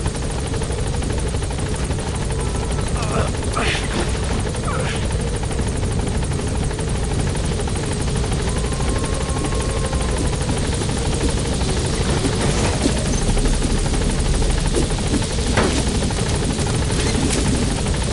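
Helicopter rotor from Metal Gear Solid V: The Phantom Pain, a steady loud chopping drone hovering near the landing zone, continuous throughout with faint radio-style voices briefly over it.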